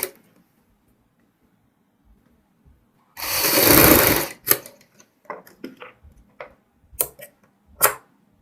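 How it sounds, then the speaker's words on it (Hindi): A close sewing machine runs in one steady burst while stitching the sleeves of a kurti to its body, then gives several short, quieter stop-start bursts and clicks. "इन दोनों बाजू को और कमीज को दोनों मिलाते हुए सिलाई लगाएंगे"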